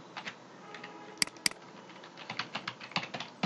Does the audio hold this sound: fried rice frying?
no